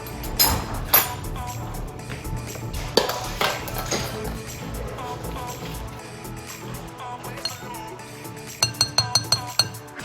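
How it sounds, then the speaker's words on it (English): Butter spooned into a glass microwave-safe bowl gives bright clinks and taps of utensil on glass, with a quick run of light chimes near the end and soft background noise throughout. "get 4 to 5 tablespoons of butter and put it in the microwave safe bowl"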